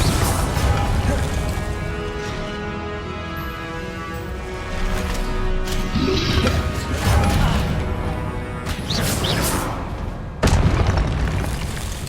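A Confringo spell explosion in the Hogwarts Legacy video game, heavy booming blasts over a loud game soundtrack, with a sharp burst near the end.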